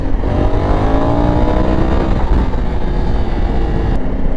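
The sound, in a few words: Honda Africa Twin motorcycle accelerating, lifting front wheel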